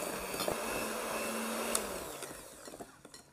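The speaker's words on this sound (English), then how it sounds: "Now speed up your whisks." Electric hand whisks beat butter at speed for a Victoria sponge, giving a close, steady motor whine with occasional knocks against the bowl, easing off toward the end.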